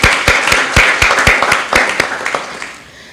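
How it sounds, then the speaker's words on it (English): A small audience at an educational town hall claps, distinct sharp individual claps standing out in an uneven rhythm, loud at first and thinning out toward the end. "I think we should give a round of applause for that."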